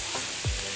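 Onions frying in ghee in a pan for pulao, a steady close sizzle with a couple of brief stirring scrapes, no voices.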